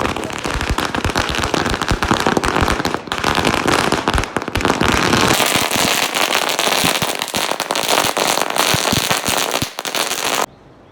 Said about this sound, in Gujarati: અને આ ફટાકડા જોઈ લો.